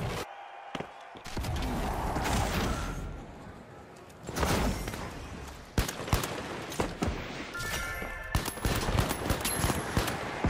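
Gunfire from a Pike-556 rifle in The Finals, sharp repeated shots in quick bursts with impacts and clatter, close and loud amid game noise.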